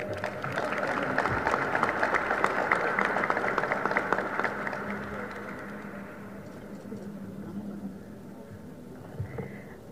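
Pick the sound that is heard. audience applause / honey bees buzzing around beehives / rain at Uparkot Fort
audience applause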